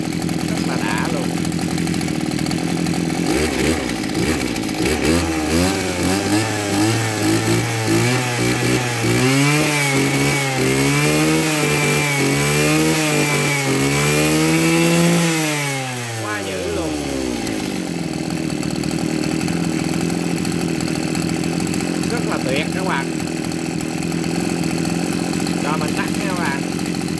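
A Maruyama JC261DX 26cc brush cutter engine idles, then revs up with rising and falling pitch sweeps for about ten seconds before dropping back to a steady idle. It is loud and close, with speech heard around it.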